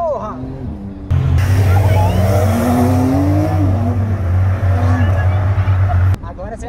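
Porsche driven hard on a track, its engine roaring loud and steady from close inside the car for several seconds, with people talking and exclaiming over it; no distinct tire squeal stands out.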